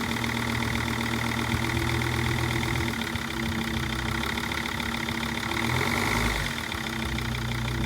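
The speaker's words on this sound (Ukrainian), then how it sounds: "оберти перестали плавати, масличко прокачалось через фільтр" A car engine idles steadily after an oil pan gasket replacement, its smooth, even hum holding close and constant with a slight shift in tone near the end.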